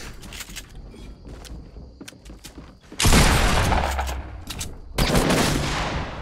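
Shotgun blasts in a video game: two loud, heavy booms several seconds apart, each with a long roaring tail, following a stretch of lighter clicks and rattles.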